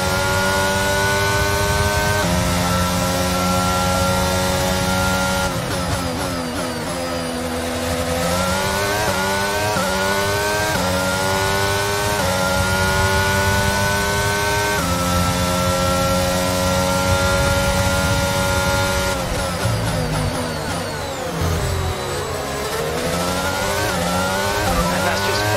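Formula 1 race car engines in F1 22, a McLaren chasing a Ferrari: a continuous high-pitched engine whine rising and falling through gear changes and braking, loud and close, with no talk.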